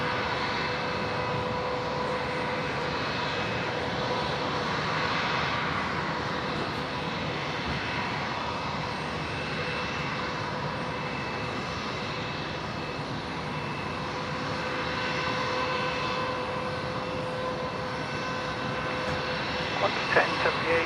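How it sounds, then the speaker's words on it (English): Embraer jet airliner taking off from Brisbane Airport for Canberra, a steady distant roar of jet engines filling the air, fairly faint and continuous, with a voice talking over it. "The Embraer off to Canberra."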